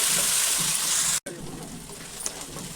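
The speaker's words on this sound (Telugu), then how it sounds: "ఉల్లిపాయ ముక్కలు, అలాగే పచ్చిమిర్చి, వీటిని మంచిగా ఫ్రై చేసుకోవాలి" Onion pieces and green chillies fry in oil for a drumstick chicken curry, giving a steady close sizzle with a brief dropout partway through.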